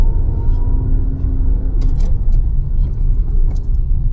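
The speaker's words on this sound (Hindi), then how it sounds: "सोनी एंड देन इसके बाद स्पीड पकड़ती हैं और ये थर्ड गियर भी लगा देती हैं।" Car engine running steadily during a driving lesson, a loud continuous low rumble from inside the cabin with a few light rattles, no speech.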